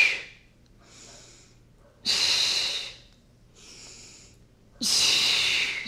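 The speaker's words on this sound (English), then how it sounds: "So we're still doing that deep core breathing." Deep core breathing during a Pilates strengthen and stretch workout: two loud, forceful exhales alternating with softer inhales, close and unaccompanied by speech.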